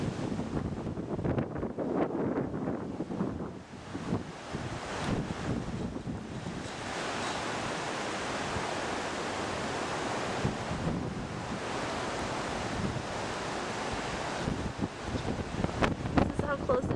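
Floodwater and wind surround a house after Hurricane Ike, a steady broadband wash of water and gusting wind noise buffeting the microphone throughout, with a voice talking intermittently over it.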